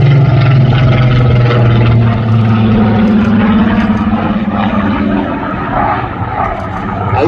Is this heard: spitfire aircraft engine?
yes